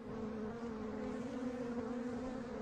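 Honey bees buzzing around a hive make a dense, steady drone, close and continuous without pause.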